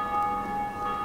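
Sustained tonal bell ringing inside the Dark Souls game world, a steady resonant tone with bright overtones held for the whole second, moderately loud and alone with no talk.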